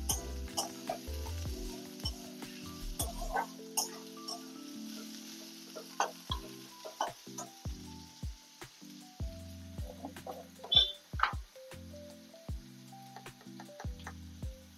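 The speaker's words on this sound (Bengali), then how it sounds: "এবার এর মধ্যে আলুগুলো দিয়ে দেবো। আর এই লঙ্কাগুলো দিয়ে দেবো, দিয়ে এটাকে ভালো করে নেড়ে দেবো।" Potatoes and green chillies tipped into fried onions in a pan and stirred, giving a low steady sizzle broken by repeated scraping clicks and clatters of a spoon against the pan, close and fairly quiet with no talking.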